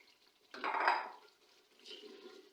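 Chicken pieces drop into fried masala in a cooking pot for chicken aloo curry, a single close burst of sizzling and clattering that fades, followed by softer stirring sounds.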